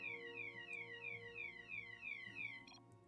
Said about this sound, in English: Oh, guys, we've got the fire alarm drill.